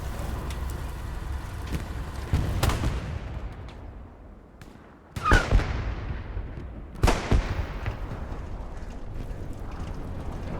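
A tank's cannon firing at another tank in the Hell Let Loose video game, with a few loud booming blasts at intervals that ring out and decay over a rumbling battlefield background.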